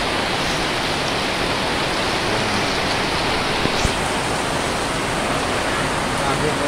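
Heavy rain pours in a dense, unbroken roar, loud and close, with no pauses.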